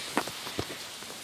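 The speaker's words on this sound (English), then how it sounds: "it's raining like crazy" Heavy rain blows in during a storm with a power outage, a constant hiss of downpour with a few sharper gusty splashes and thumps, close and steady.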